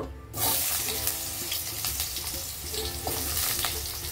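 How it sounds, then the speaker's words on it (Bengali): Potatoes frying in hot oil with salt and turmeric while cooking methi rice, a steady loud sizzle with crackling pops starting abruptly and continuing alone without talk. "আলুটাও আমি লবণ আর হলুদ দিয়ে ভেজে নেবো।"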